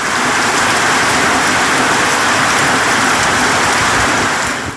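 Heavy rain pours in a dense, continuous roar that stays loud and steady throughout with no talking.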